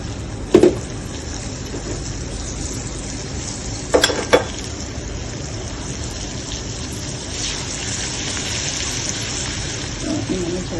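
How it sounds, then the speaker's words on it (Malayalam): Chili powder, turmeric, rice flour, salt and curry leaves sizzle in hot coconut oil for a Kerala egg roast, a steady close frying hiss with a few brief clinks of stirring. "വെളിച്ചെണ്ണ ചൂടായതിനു ശേഷം നേരത്തെ എടുത്തു വെച്ച മുളക് പൊടി, മഞ്ഞൾപ്പൊടി, അരിപ്പൊടി, ആവശ്യത്തിന് ഉപ്പ്, കറിവേപ്പില എന്നിവ ഈ ചൂടുള്ള എണ്ണയിലേക്ക് ചേർത്ത് കൊടുക്കുകയാണ്."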